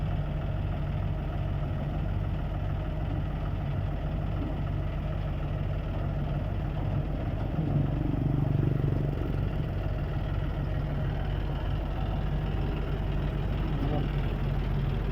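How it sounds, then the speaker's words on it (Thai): A John Deere tractor engine idles continuously throughout, a steady low rumbling drone with a faint clatter, close by and constant in level. "ลากโดยรถไถจอนเดียครับนี่"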